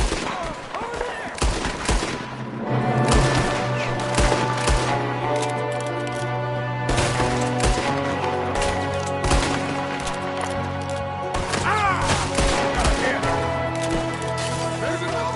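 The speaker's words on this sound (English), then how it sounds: "there's another one shooting from the window" Gunfire in Red Dead Redemption 2 during a shootout, a dense run of repeated shots and rattling volleys over about fifteen seconds, with music and voices mixed in.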